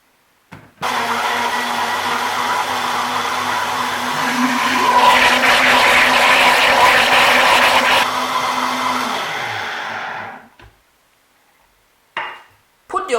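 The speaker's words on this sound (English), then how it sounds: "We're going to add some water right away and blend." A kitchen blender whirs steadily while blending bell pepper, scotch bonnet, onion, ginger and garlic with water, its pitch rising partway through before it winds down and stops, followed by a brief clatter.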